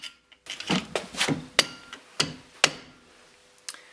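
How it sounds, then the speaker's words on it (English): A series of sharp metallic hammer-and-drift strikes knocking in a hub nut locking tab on a Lotus Elan M100 front suspension, about eight taps at uneven intervals, close and distinct with short ringing decays. "get a hammer and a drift and just knock the locking tab in on your hub nut"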